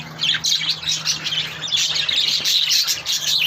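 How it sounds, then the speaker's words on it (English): Many birds chirp and tweet together in a busy aviary, a dense, continuous layer of overlapping high calls with occasional squawks, close and steady throughout. "And there's birds. Everywhere's birds. Eggs and birds."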